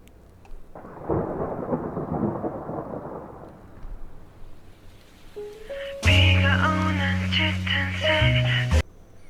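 Thunder rumbles low over falling rain at the start of a song before instrumental music enters, a deep rolling storm that fades as the music rises.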